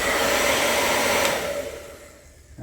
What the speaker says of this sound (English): I'm going to heat up the casing. I just literally just use a hairdryer